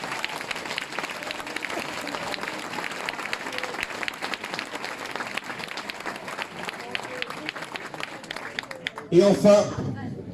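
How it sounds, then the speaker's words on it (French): Audience applause in a hall during a public gathering in Conquereuil, a dense sustained clatter of clapping with voices mixed in throughout, ending in a brief louder burst of nearby talk. "On peut applaudir tous ceux qui ont fait venir du monde"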